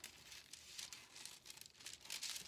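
Scissors snip through a paper sewing pattern for a raglan sleeve, cutting out a shoulder dart, with crisp crinkling cuts and rustles repeating at close range in a quiet room.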